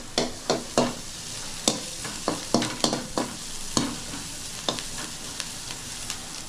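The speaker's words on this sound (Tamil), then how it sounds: "வெங்காயம் நல்ல பொன்னிறமாக வர வரைக்கும் வதக்குங்க" Finely chopped onions fry in a pan while a spoon stirs them in repeated sharp scrapes and taps over a steady background sizzle, close and clear with no talking.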